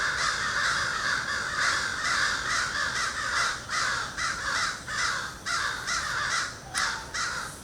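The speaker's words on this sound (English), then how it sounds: "don't these birds ever give up?" Crows caw repeatedly in a loose rhythm, loud and fairly close, over a steady outdoor background.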